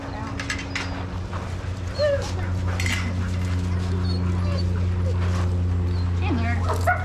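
Several dogs at a daycare bark, yip and whimper over a steady low hum, with yelps and whines scattered throughout while people talk nearby.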